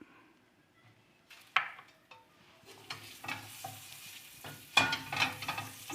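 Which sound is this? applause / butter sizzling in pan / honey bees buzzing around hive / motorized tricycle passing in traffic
butter sizzling in pan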